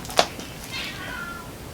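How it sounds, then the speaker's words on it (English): Cats fighting outside, heard as a sharp meow followed by a drawn-out, wavering yowl, faint and distant with no talk. "I know there's a cat fight outside."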